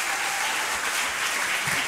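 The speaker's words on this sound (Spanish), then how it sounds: "yo voy a pedir un aplauso por todos esos profesionales" Audience at a foster-care conference clapping steadily in a hall, a dense, even wash of applause with no voices over it.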